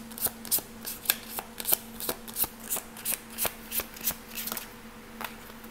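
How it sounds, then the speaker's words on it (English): Tarot cards are shuffled by hand in quick, regular riffles and slaps, each burst crisp and close against a faint steady background hum, with no talking. "let's see one more card."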